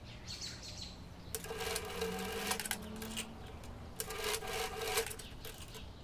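A sewing machine stitches an apron pocket in two separate bursts of steady mechanical whirring, each lasting about a second and a half, with a quiet pause between them.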